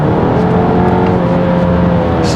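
The engine of a 2023 Volkswagen Tiguan Allspace 2.0 TSI drones loudly and steadily from close by, a sustained rising hum with no voices.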